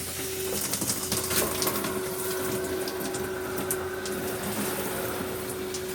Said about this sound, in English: it's just a water faucet you turn on.